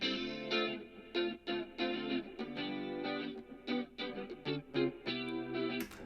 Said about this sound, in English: I also added some guitar.